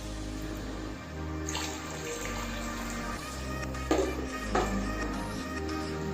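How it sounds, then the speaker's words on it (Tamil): Water pouring steadily into a pot of vegetable biryani, about two parts water to rice, a continuous splashing rush under a low hum, with a couple of louder clinks near the end. "இதுக்கு 2 பங்கு தண்ணி சேர்த்துக்கணுங்க."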